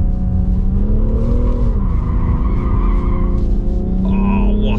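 Tires squeal loudly on a 2021 BMW M340d Touring diesel as it is driven hard, with the engine droning underneath and a sustained screech that shifts in pitch.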